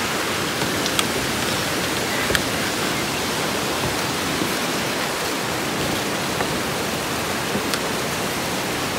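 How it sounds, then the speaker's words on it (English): Steady rushing water, a small waterfall at a resort in the Dominican Republic splashing continuously at close range, with a few faint clicks over the constant wash. "So they have that little waterfall that goes through here, down there."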